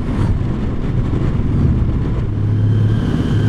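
A 2019 Honda Goldwing motorcycle in sport mode pulls hard under acceleration, its deep engine drone steady and loud. Wind rush surrounds it for the few seconds it lasts, with no talking.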